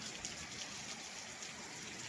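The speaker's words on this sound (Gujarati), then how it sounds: "જો વરસાદ ચાલુ છે ધમધોકાર।" Heavy rain pours down in Godhra in a constant, dense hiss, with no voices or other sounds breaking through.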